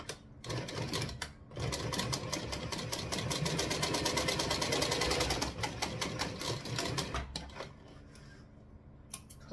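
Sewing machine running in a steady mechanical rattle for several seconds while back stitching a handmade trifold wallet, stopping briefly at the start and near the end, close and loud with no talk.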